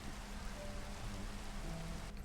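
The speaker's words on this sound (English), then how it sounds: "It rains here a lot." Rain falls steadily in the modded Minecraft game Enigmatica 2 Expert Mode, a soft, even hiss of drops that stays constant and faint and ends abruptly.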